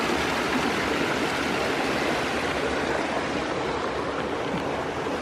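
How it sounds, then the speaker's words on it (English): A small waterfall cascades over dark boulders on a mossy creek in Bankhead National Forest, Alabama, making a steady, full rushing roar close by with no pauses. "Beautiful little cascade here."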